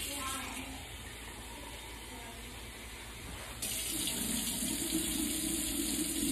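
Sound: warm water running from tap

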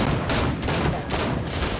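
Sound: gunfire in Fortnite video game

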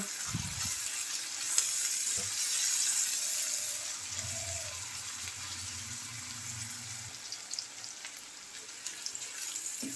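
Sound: chopped onions frying lightly in oil

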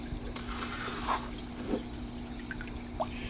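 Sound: bucket dipped and lifted from aquarium water, dripping

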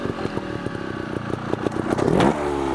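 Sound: motorcycle revving during a trials riding climb

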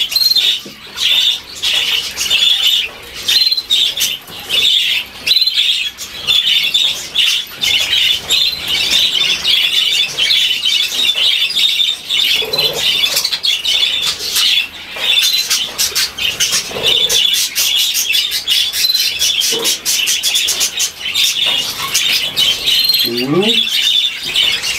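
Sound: pet budgerigar chirping and squawking

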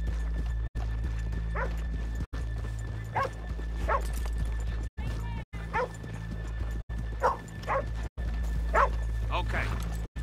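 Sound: horses in a video game

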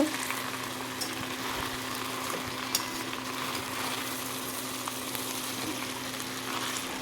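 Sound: minced meat and figs frying with spices

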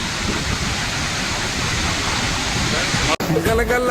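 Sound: water rushing from opened Srisailam dam gates

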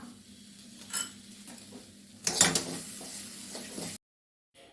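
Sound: stirring kasthuri okra stir-fry in a pan

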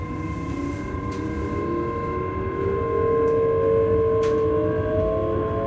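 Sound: train running

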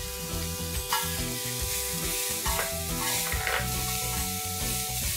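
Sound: chopped green capsicum sautéing with garlic paste

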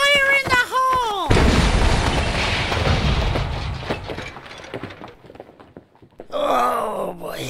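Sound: cannon firing with a lit fuse

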